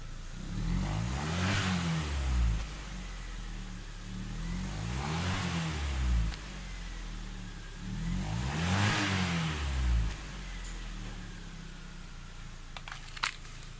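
A Chevrolet engine of the kind fitted to the 2011-2015 Orlando and 2009-2016 Cruze, with 97,886 miles and no fault codes, revs up and falls back three times in a steady rhythm during an exhaust check. It sounds close and loud, with no talking.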